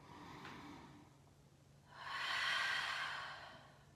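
A deep breath drawn in during a Pilates and yoga fusion exercise while lying down with arms overhead, starting as a faint exhale and swelling into a long, close airy inhalation with no talking.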